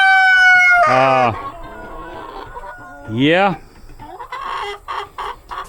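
Chickens cluck and squawk nearby in loud bursts, with a rooster-like call, and someone speaks briefly.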